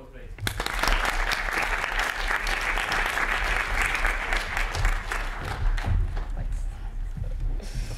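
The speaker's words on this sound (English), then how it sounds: "Round of applause, please" A crowd at a Winchester student elections question-and-answer session gives a sustained round of applause for the candidates, dense and steady clapping filling the room for the full eight seconds.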